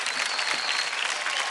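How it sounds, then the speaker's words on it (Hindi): A studio audience on a televised dance competition breaks into a brief, dense burst of applause, steady clapping filling the moment without speech. "एंड जोरदार तालियां हो जाए हार्दिक के लिए"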